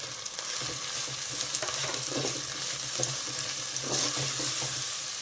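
Spinach and other leafy greens frying in a pan, with steady close sizzling and soft, repeated stirring scrapes throughout and no talking.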